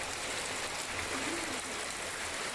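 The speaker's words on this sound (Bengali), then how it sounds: "বৃষ্টির শব্দটাই শুনি" Rain falling outside a wooden house on a rainy day, a steady dense hiss of drops heard from indoors, even and continuous throughout with no break.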